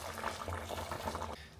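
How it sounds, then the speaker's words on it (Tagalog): Water is poured into a pot of chicken tinola, a steady, close gushing and bubbling of liquid lasting just over a second before it cuts off. "After nating mahalo, lalagyan naman natin siya ng tubig ngayon."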